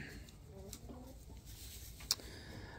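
A hen fusses in a nesting box with soft, close clucks and low murmuring calls. A brief sharp knock comes near the end over faint background noise.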